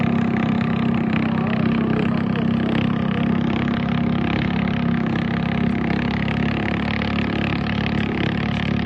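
A fast boat or canoe speeding across water, its engine a steady loud drone with a broad rushing wash, continuous throughout with no pauses and no voices.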